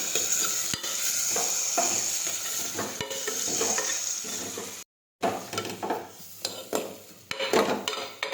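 Cluster bean curry in a pot being stirred after turmeric, sugar and salt go in: steady scraping and clinking of a spoon against metal with a soft sizzle underneath, continuous apart from a brief gap midway.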